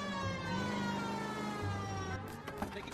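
A police car siren wails in the L.A. Noire video game alongside a car engine, a steady tone that shifts pitch before being cut off by brief clattering noises near the end.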